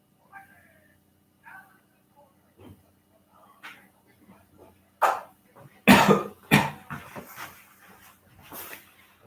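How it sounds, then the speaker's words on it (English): Several sharp coughs burst out in quick succession after a stretch of quiet, soft murmuring, close to the microphone. "Sorry, I'm coughing."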